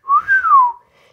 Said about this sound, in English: I know I'm wolf whistling to you